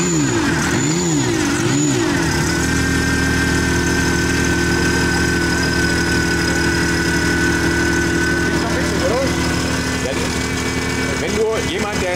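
A car engine is started on a dynamometer test stand at a GTI fan festival, cranking briefly before settling into a loud, steady idle with droning mechanical hum and vibration, then a light rev near the end.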